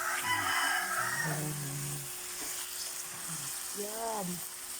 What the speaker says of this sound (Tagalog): Yan po yung isda niluluto